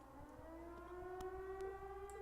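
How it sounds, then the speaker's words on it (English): A siren sounds from a fort in the video game Trails of Cold Steel, a faint, steady wailing tone that slowly rises in pitch, with a few soft clicks over it. "Sounds like a siren. Seems to be coming from the fort."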